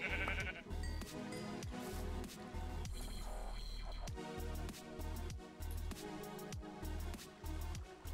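A sheep in the Minecraft video game bleats once in a short wavering call, set against steady rhythmic game music with thumping beats and no talk.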